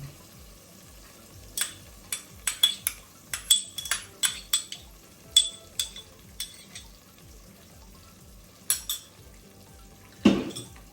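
Metal spoon stirring mint paste into chicken curry in a pan over a low flame, with a run of sharp clinks and scrapes against the pan, a quiet pause, then a final clatter, over faint sizzling.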